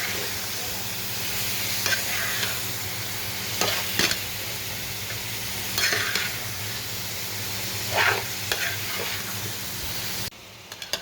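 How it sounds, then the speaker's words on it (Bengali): Cauliflower is stirred with spices in a hot frying pan, a continuous sizzle running under repeated scraping spoon strokes and soft knocks against the pan, close and fairly loud. "মশলার সাথে একটু ভালোভাবে মিশিয়ে নিই।"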